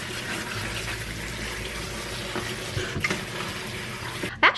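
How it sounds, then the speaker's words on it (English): Cold tap water pours steadily into a sink, rinsing blackberries held in a strainer. The rush is close and continuous, with a few small knocks near the end. "Rinse these off in cold water."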